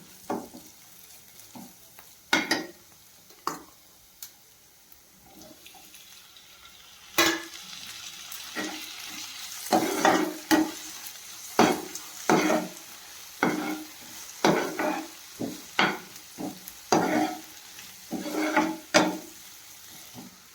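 Chopped tomato stirred and fried in a pan for palak paneer: a soft sizzle underneath a run of sharp, repeated spatula scrapes that grow busier and more regular in the second half, close up with no talking.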